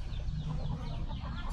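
Chickens cluck softly close by on a backyard farm, a few short murmuring calls over a low background rumble.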